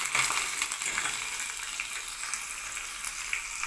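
Onions, including small shallots, sauté in a pan for a sugarcane spinach dish, giving a steady, close sizzle with faint stirring scrapes and no talking.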